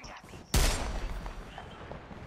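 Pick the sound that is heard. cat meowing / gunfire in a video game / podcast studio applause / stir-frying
gunfire in a video game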